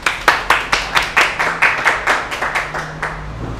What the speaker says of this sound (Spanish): un aplauso para vos